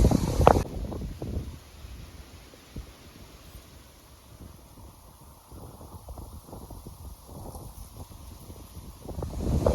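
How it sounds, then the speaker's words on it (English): Strong wind gusting outdoors in a garden with raised beds, rumbling and buffeting the microphone in uneven bursts, loudest at the start and again toward the end, with no speech. "We've got a lot of wind today."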